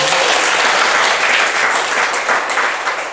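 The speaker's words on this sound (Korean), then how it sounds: "본인한테 박수 한번 더 쳐주세요" A seminar audience at an Atomy business meeting in Bucheon bursts into loud, close, dense applause that stays full and then begins to taper off toward the end.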